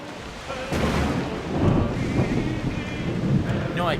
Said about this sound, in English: Commander, there's a storm!